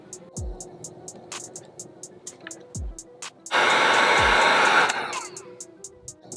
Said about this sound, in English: We're gonna crimp this down and then heat shrink it